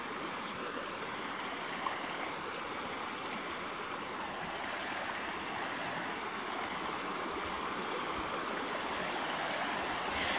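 A small stream flows steadily in open countryside, a continuous close rushing and babbling of water with no talk and no breaks.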